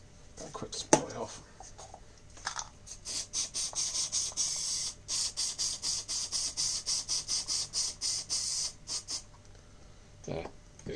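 Oily wheel bearings sprayed off in rapid bursts, a series of sharp hissing spray pulses with brief gaps, close and fairly loud, with a few handling knocks at the start and end.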